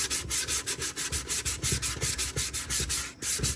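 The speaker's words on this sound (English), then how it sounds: "I'm going to speed it up here so it's not an hour video of me just sanding this." Steady rhythmic sanding of a 3D printed alien mask, quick back-and-forth abrasive strokes repeating in a close, continuous scrubbing pattern with no voices.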